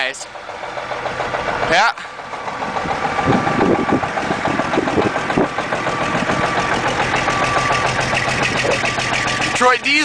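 A Detroit Diesel truck engine turns over and settles into a loud, rough, clattering idle after a cold start, close by, with brief breaks in the sound and a short spoken word.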